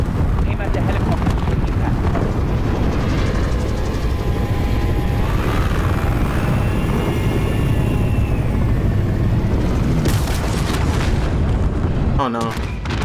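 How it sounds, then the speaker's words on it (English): An RC helicopter in Call of Duty Modern Warfare whirs steadily under loud continuous battle noise, booms and gunfire, with a sharp crash-like burst near the end. "Crash into the chopper. Steady. Aim at the helicopter."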